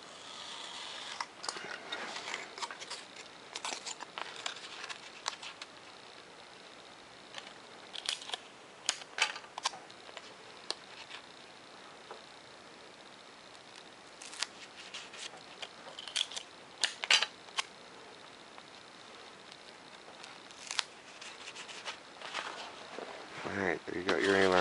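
Scissors snip through paper plans for a MiG-29 model airplane, with rapid, close clicking cuts in uneven bursts and brief pauses, no talking.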